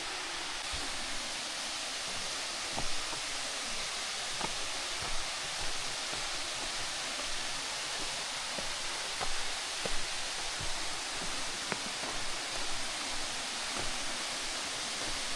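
A creek waterfall on a backcountry hiking trail makes a steady, even rushing wash heard from some distance, with faint scattered ticks and rustles over it.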